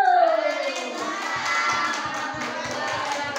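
An indoor audience claps after a presentation at a positive-culture dissemination event. The applause is a dense, steady patter of many hands, opening with a brief falling tone.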